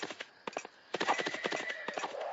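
A horse king monster in a fantasy video game gallops, giving quick repeated hoof clops in short runs, fairly faint, with a brief pause before the beats resume.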